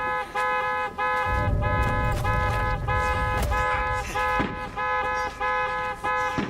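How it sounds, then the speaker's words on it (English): Car alarms blare in the zombie video game No More Room in Hell 2, a loud, continuous pulsing electronic wail with rapid repeating tones and low rumbling noise beneath. "Apologies for all the alarms going on."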